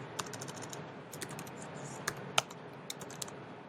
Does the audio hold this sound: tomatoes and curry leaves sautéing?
no